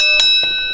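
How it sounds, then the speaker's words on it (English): A single bright bell strike, near and clear, followed by a softer second tap and a sustained ringing tone that fades over the moment, at a Halloween-themed wrestling show. "Ring the bell."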